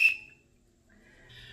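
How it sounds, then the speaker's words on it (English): A single short, sharp shrill blast of a lifeguard's whistle at the very start, then near silence with faint background noise. "They have a whistle so that they can blow."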